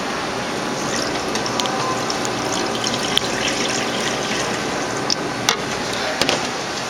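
Water is poured or run to fill a container for making a slushie, giving a steady close splashing hiss with a few small knocks and clinks throughout.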